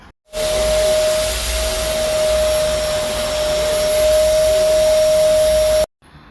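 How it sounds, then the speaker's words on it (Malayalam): A vacuum cleaner sucks up dust from carpet and floor, a loud steady roaring whine with a constant high tonal hum, switching on abruptly and cutting off near the end. "ഒരുപാട് പൊടിയൊക്കെ ആവുന്ന സമയത്ത് ഞാൻ ഇതുപോലെ വാക്കം ചെയ്യും"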